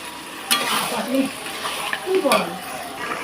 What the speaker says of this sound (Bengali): মাংসটাকে দিয়ে এখন ভালোভাবে কষিয়ে নেব